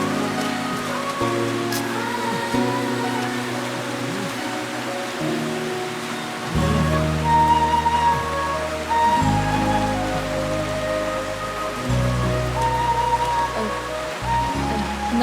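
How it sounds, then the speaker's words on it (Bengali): Steady rain pours down in an outdoor scene, a broad continuous hiss of drops on surfaces, loud and close, with soft background music tones running underneath. "দেখেছো বৃষ্টিটা আবার কেমন বেড়ে গেল"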